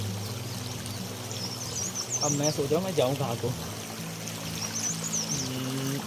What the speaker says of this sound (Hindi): नदी की कलकल